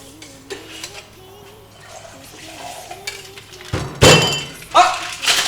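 A tequila cocktail is shaken hard in a shaker with ice. Loud, rattling bursts of shaking follow a stretch of speech and come in quick, close pulses toward the end.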